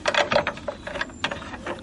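Bolts being tightened on a wooden apple press frame, giving a run of close ratcheting clicks in short bursts with brief pauses between them.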